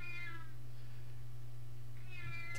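A cat meows indoors, two drawn-out cries separated by a pause, heard clearly over a steady low electrical hum.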